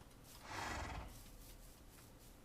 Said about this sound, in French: Oh, il y a des chevaux.